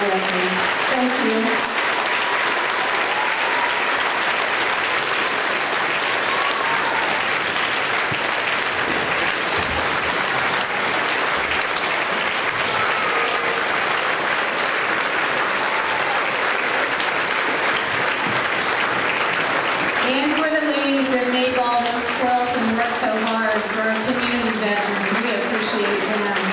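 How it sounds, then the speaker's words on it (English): An audience at a grade school Veterans Day program claps in a long, sustained round of applause honoring veterans, loud and continuous, with voices emerging over the clapping toward the end. "Help me give them another thank you by a round of applause to all of our veterans."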